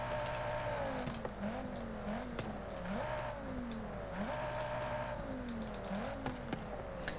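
Audi TT engine in the Forza Horizon 5 racing game, an upgraded road build, revving repeatedly through gear changes, with the pitch climbing and dropping in a steady cycle, loud and close throughout with no talking.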